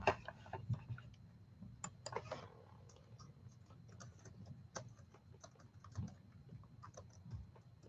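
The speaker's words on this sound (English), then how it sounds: "I'll type in." Keys tapped on a computer keyboard in a home craft room, producing scattered light clicks in short bursts over a low background hum, with no talking.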